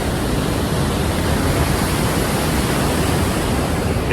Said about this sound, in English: this is Athabasca Falls